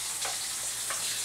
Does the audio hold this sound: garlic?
yes